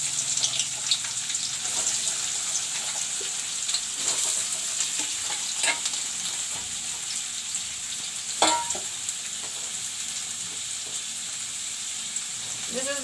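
Chopped onions hit hot oil in a pan and sizzle steadily and loudly for the whole stretch, with a few brief clinks and stirring knocks over the constant frying hiss.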